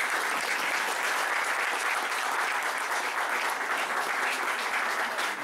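Steady, sustained applause fills a hall at a scholarship award ceremony in memory of Professor Vincenzo Mondello, an even wash of many hands clapping with no break.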